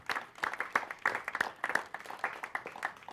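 An audience at a live show claps together in a dense, lively burst of applause, close and steady with uneven peaks, lasting the whole short stretch.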